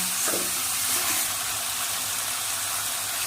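Chicken sizzles steadily in a hot pan while being cooked down for Bengali chicken kasha, giving a constant, fairly loud frying hiss with a few soft stirring sounds near the start.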